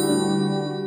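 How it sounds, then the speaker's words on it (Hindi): A phone rings in a home during a Hindi TV drama scene, a single sustained bright electronic ring tone, clear and close, with no talking over it. "ये लो, कहीं उन्हीं का फोन ना हो।"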